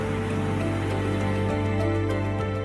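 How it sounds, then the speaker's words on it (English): Heavy rain falls at night in Italy, a steady, dense wash of sound that holds evenly throughout, with a low hum underneath and no voices. "Italy is raining heavily tonight."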